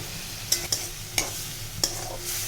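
A spoon stirs white mustard paste masala with a little salt and hot water in a pan for a hilsa roe dish, a low steady sizzle broken by four soft scraping strokes, close and fairly quiet.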